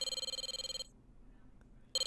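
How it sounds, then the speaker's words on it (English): A telephone rings in the Twice Reborn video game, a rapid trilling bell burst that cuts off, then a short silence before the ringing starts again at the end. "Oh, that was a phone!"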